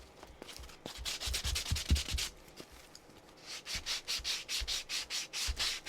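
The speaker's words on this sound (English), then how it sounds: "Just sand the edge" Rhythmic rubbing strokes of a sanding block on the edge of a journal made from junk mail envelopes, close and fairly quiet, starting irregular then settling into a steady back-and-forth.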